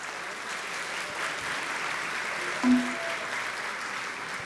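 A crowd at a Black Consciousness Day gathering in Rio Grande do Sul gives sustained, fairly faint applause, an even wash of clapping with one brief louder bump partway through.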